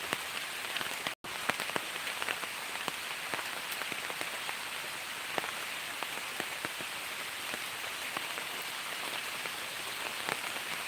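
Heavy rain falling steadily on surfaces in a village during flooding, a dense continuous hiss of drops with scattered sharper patters, with one very brief dropout early on.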